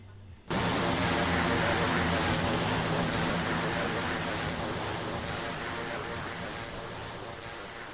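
Beechcraft King Air 350 turboprop aircraft starts abruptly and roars steadily at an airport runway, loud and broadband, slowly fading over several seconds.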